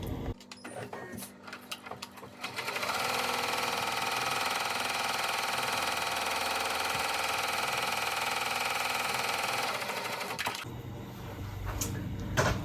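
A home embroidery machine stitching the outline of an in-the-hoop mug rug, a steady close mechanical whir with rapid needle chatter that runs for several seconds before stopping, with a few faint handling clicks at either end and no speech.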